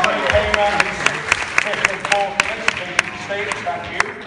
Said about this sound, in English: round of applause to Stuart Witt, Paul Jackson, and Lee Hayman